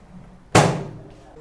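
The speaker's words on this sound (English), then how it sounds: "When you are done, you gently close the door." A single sharp thud of a microwave door shutting, close by, with a brief ringing decay afterward.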